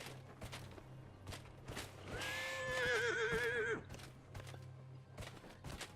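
A horse whinnies loudly in a long wavering call amid steady clip-clop of hooves on the ground, in the Hissing Wastes of the game Dragon Age: Inquisition, with soft ambient game sound underneath.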